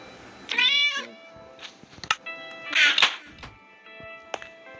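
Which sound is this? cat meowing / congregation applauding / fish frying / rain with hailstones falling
cat meowing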